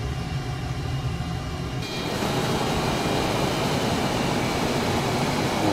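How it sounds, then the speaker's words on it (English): A C-17 jet taking off in Microsoft Flight Simulator, a steady engine roar that surges louder and broader partway through, then holds at a loud constant rumble with no talking. "a Top Gun C-17, not something you see every day taking off in front of you"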